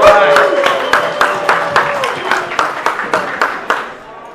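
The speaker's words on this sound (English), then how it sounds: "Let's give them a round of applause for being here." An audience at a Vallejo Chamber of Commerce teachers appreciation networking event applauds for the teachers, a loud burst of clapping that thins into scattered, individual claps as it fades out.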